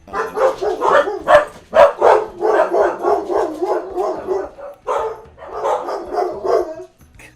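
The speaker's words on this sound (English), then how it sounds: "The dogs." Dogs bark in a rapid, continuous string of loud close barks with a few yips, with brief pauses near the middle and end.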